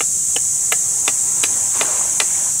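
A sharp tool pierces the soft eye of a coconut in a run of seven crisp, evenly spaced taps, close and distinct over a constant high whine in the background.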